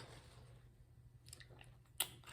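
Fried portobello mushroom strips being chewed, heard as a few faint, soft crunchy bites with one sharper bite near the end, close up over a quiet hum.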